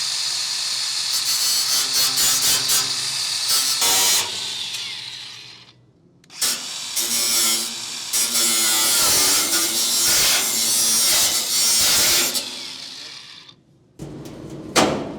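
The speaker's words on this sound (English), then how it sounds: "Cut it or grind it either way." Grinding or cutting into the metal body of a 1946 Pontiac, a loud harsh abrasive whine in long sustained passes broken by a couple of short pauses, close by.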